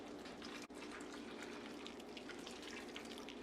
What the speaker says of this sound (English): Just going to pour that directly onto the nuts.